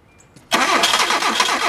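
A Hyundai car engine with a newly replaced sensor, primed with a spritz of gas, cranks and catches abruptly, then runs loud and steady at close range with a slightly pulsing roar and no talking.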